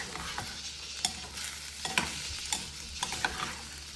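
Zucchini is stirred in a pot for Korean pork and seafood tofu stew, with a steady sizzle under a series of scraping and clacking strokes from a utensil, sounding close and with no one talking.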